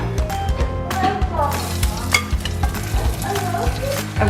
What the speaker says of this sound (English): I'm just heating up the green beans, sauteing them in some olive oil with some garlic